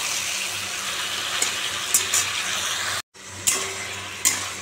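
Water poured into a pan of ridge gourd curry seasoned with turmeric and salt, a steady close gushing splash with a brief break partway through, with no talk.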